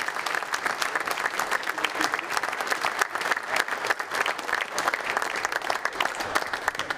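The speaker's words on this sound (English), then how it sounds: "Give him a big round of applause." An audience at a Christmas event gives a sustained round of applause, dense, steady clapping from a crowd lasting the whole stretch with a few faint voices underneath.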